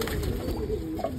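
A wild pigeon perched on top of a crate gives a soft, low cooing close by, steady and unbroken with no talk over it.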